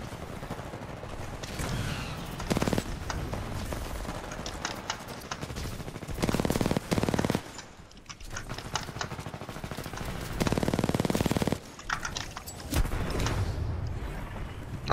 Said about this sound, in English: This is my favorite gun though, R97.